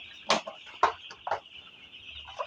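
Broiler chickens give three short clucks spaced about half a second apart, followed by a fainter one, close and clear over a quiet background.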